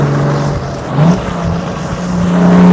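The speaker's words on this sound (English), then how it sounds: "And when you accelerate, she is no slouch." A 1958 AC Bristol Roadster accelerating, heard from the passenger seat: a steady, loud engine note that climbs in pitch as the car pulls, with wind and road noise around it.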